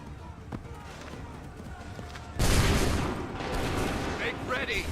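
A volley of musket fire bursts out in a colonial battle scene from Assassin's Creed 3, a sudden loud crackling blast after a quieter stretch of murmuring ambience, with scattered shots and shouting continuing afterward.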